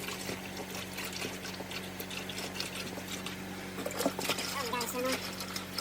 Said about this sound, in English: Pour all the dexcool in it